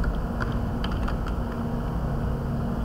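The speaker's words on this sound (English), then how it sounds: "just type Windows Defender" Brief, soft clicks of typing on a computer keyboard in a quiet room, a few scattered keystrokes over a low steady background hum.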